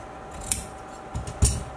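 Scissors snip through fabric while a baby jumpsuit is being cut, with a couple of distinct close, crisp cuts spaced about a second apart over a quiet background.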